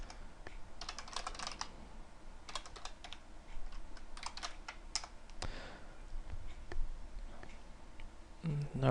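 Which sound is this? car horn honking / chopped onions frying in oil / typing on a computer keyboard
typing on a computer keyboard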